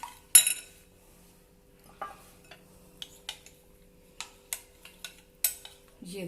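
Chicken bread roll filling is mixed in a bowl with a utensil, giving scattered light clinks and scrapes against the bowl, fairly close and quiet, with short gaps between strokes.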